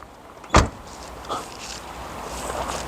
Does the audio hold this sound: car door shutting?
yes